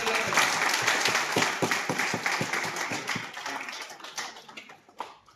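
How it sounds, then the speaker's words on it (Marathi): Loud applause from an audience gathered to honour a man now standing without his walking stick, dense clapping that slowly fades over several seconds. "एकदा जोरदार टाळ्या दिल्यामुळे"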